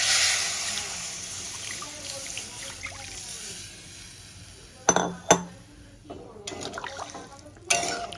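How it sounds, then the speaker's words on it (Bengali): Water pours into a pot of fried potatoes for an egg and potato curry, a soft rushing trickle that fades, followed by a few sharp clinks of utensils against the pot. "এবার আমি জলটা দিয়ে দেবো"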